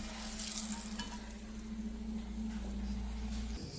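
A homemade Chinese flatbread sizzles in a hot pan as its second side fries, a continuous, even crackle that stays steady throughout.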